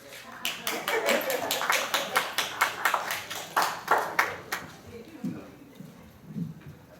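A short burst of scattered clapping from a small town hall audience, a dozen or so distinct claps in a loose rhythm that fade out, with talking nearby.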